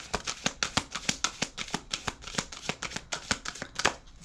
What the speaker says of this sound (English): let's get a card for Drake.